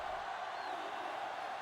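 Stadium crowd noise for the Michigan Hellcats in a football video game, a steady broadband roar of cheering fans holding at even volume throughout, with no distinct shouts standing out.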